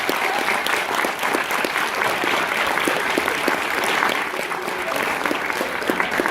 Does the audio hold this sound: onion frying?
no